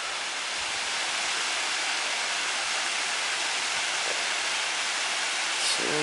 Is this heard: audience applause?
no